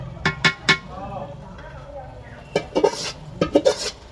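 Chicken is added to a pan of fried spices for a chicken dish with potato and cauliflower. Sharp metallic clanks and scrapes of a utensil against the pot come in bursts, with a brief murmur of voice between them.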